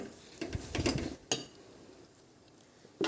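A few metal clatters as a lid is set over a pot of taro flowers boiling in hot water, then one sharper knock, with a quieter stretch before a final clink.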